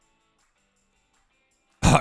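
A short, sharp cough or throat-clear in the video game College Kings, a single burst at the very end after near silence.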